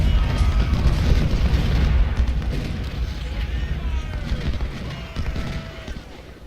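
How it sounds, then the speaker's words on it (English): Deep rumbling booms of an artillery bombardment in the Civil War strategy game Ultimate General: Civil War, heavy overlapping blasts that roll on and slowly fade, loud and near. "These guys have been steadily bombarding this unit down."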